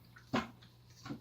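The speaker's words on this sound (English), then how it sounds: "you're just going to want to pump that until the water comes up" A small hand pump on an aquarium gravel vacuum squeezes twice while setting up a fish tank, giving a sharp watery gush followed by a softer second pulse over a steady low hum.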